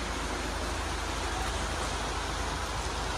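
A dense, even wash of heavy monsoon rain hisses steadily with no pauses, a constant downpour heard close by.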